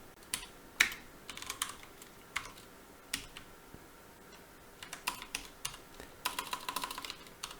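Typing on a new computer keyboard during coding, with bursts of light, quick key clicks in irregular clusters and short pauses between them, close and moderately quiet, without speech.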